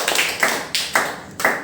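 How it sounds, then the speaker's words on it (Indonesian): A few scattered hand claps for Pak Beni from a small classroom audience during a micro-teaching session, arriving as three or four sharp separate bursts that fade quickly rather than building into full applause. "Silakan berikan aplaus untuk Pak Beni."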